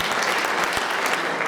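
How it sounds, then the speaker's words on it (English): An audience at a district court judges' meet-and-greet at Canyon Springs High claps in a dense, even burst to welcome Judge David Barker. "Round of applause."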